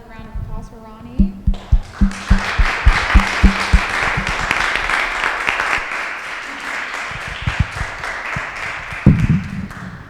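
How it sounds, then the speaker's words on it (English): An audience at a history lecture given by a Holocaust survivor breaks into applause: a few scattered claps after a voice quickly swell into dense, sustained clapping that tapers near the end. "Another round of applause for Ronnie."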